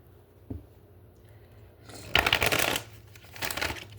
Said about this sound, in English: let's do 3 shuffles here and get to it